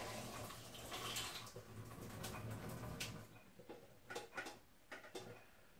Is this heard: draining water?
yes